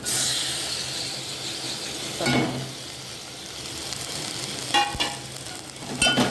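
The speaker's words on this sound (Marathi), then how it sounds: "टॅमॅटो पण हलवून घेऊया व्यवस्थित" Onion and chopped tomato fry in a pan while being stirred, a steady dense sizzle broken by a few scraping spoon strokes, close and fairly loud, with no talk.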